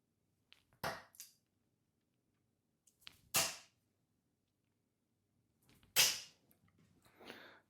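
Three darts thudding into a dartboard at trebles 18, each a sharp, close, isolated thwack a few seconds apart in an otherwise quiet room, followed by a softer rustle at the end.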